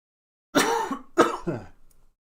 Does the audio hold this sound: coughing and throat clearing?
yes